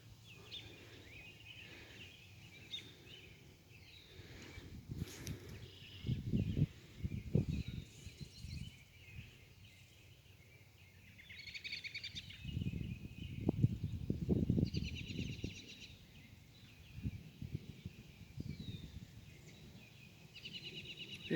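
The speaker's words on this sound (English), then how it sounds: "there are birds singing everywhere. So let's take a listen." Birds sing in a weedy backyard after supper, with cardinals nesting in a honeysuckle bush; scattered chirps and short calls sound at a distance, faint against a low outdoor background with some nearer rustling bumps.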